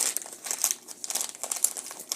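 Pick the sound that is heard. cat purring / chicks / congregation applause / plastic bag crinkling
plastic bag crinkling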